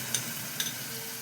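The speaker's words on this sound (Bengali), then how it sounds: "এবার আমি দইটা দিয়ে দিচ্ছি।" Yogurt goes into spice paste frying in oil for a prawn curry, giving a faint, steady sizzle with two small clicks from a utensil on the pan.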